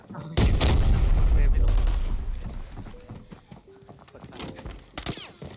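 Grenade explosions in the shooter game Arena Breakout: one loud, booming blast with a long rumbling tail, followed by quieter scattered thuds and a couple of sharp bangs near the end.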